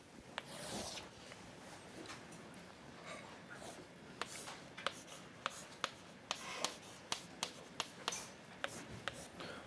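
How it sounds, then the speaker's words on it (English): Marker or chalk writing on a board in a physics lecture hall, with soft rubbing strokes and a run of sharp taps and clicks growing more regular toward the end, with no talk over it. "I'm going to write that down."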